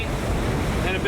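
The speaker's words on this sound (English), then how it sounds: "it's a bit stormy today. The Atlantic's a bit rough." Rough North Atlantic sea and gusting wind roar together off the southern tip of Iceland, a dense, close wash of noise buffeting the microphone throughout the brief moment.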